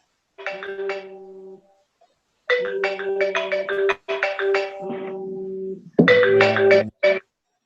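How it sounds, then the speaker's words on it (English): A phone rings during an online workshop call, playing a bright, loud melodic ringtone in several bursts with short gaps between them. "Somebody's phone is ringing."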